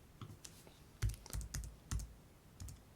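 Keys clack on the keyboard of an LGP-30 computer simulator: a handful of sharp, close taps in uneven bursts over a quiet room, with no one speaking.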